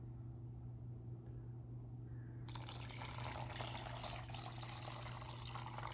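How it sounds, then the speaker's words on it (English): Water poured into a roughly one-litre container, a steady rushing splash that swells suddenly partway through and continues evenly, over a constant low hum. "then I'm going to pour in some water"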